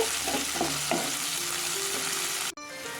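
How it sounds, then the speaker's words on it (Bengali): Chopped green chillies stirred into vegetables in a frying pan for sabudana poha, a steady sizzle with scraping stir strokes that cuts off abruptly near the end. "এই লঙ্কাটা দিয়ে দেবো দিয়ে আবার একবার নেড়ে নেব"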